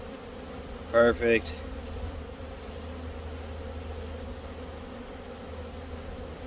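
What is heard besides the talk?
honey bees buzzing in an open beehive during a hive check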